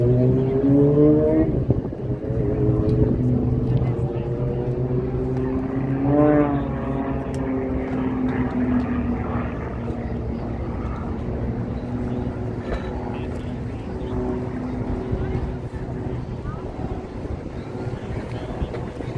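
A propeller aerobatic plane roars through a double hammerhead at the Canadian International Air Show, its engine pitch swooping up and down over a steady drone, heard at a distance with wind noise.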